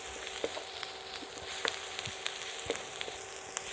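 Onion fries with salt and pepper in a pan as a quiet, steady sizzle. Faint scattered pops and clicks come from the food being stirred, with no voice.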